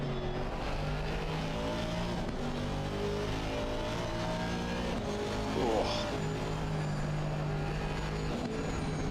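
Race cars battling four hours into a 12-hour Nordschleife endurance race in the Assetto Corsa Competizione video game, engines droning steadily with a brief tire squeal midway, heard under continuous commentary.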